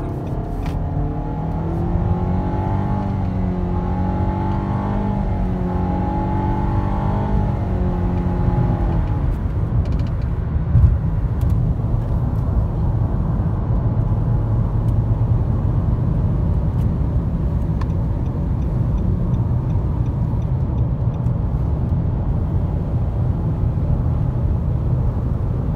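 A 2017 Nissan Rogue with a 2.5 four-cylinder engine, driven at night, accelerates at full throttle: the engine drone climbs steadily in pitch for several seconds, then settles into a loud, even road and engine rush, heard from inside the car.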